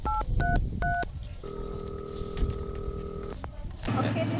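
Telephone keypad tones beep in quick pairs, then a long steady dialing tone holds for about two seconds before a final short beep, with faint voices and room noise underneath.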